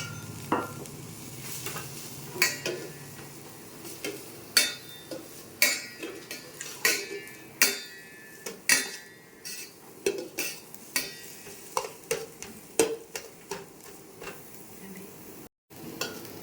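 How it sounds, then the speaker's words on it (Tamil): Cabbage stir-frying in oil with onion for chicken fried rice, a soft sizzle under repeated sharp scraping and clanking of a spatula against the pan in an uneven rhythm. "நம்ம இதை நல்லா எண்ணெயில் ஃப்ரை பண்ணி எடுத்துருவோம்."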